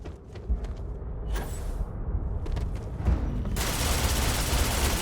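Gunfire in a firefight with mercenaries in the video game Starfield: rapid bursts of shots and thuds, close and loud, ending in a dense continuous hail of fire.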